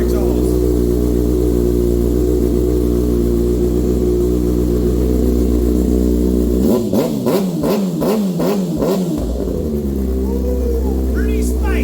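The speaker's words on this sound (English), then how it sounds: "It does sound really good with this M4 exhaust." A 2024 Kawasaki ZX6R with an M4 exhaust idles with a throaty drone, then blips through several sharp revs in quick succession before settling back to idle.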